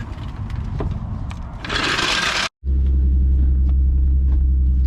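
A Nissan 350Z HR with a failing transmission rumbles low and steady as it is driven into a garage, engine noise close and continuous, with a brief scrape and a momentary dropout midway.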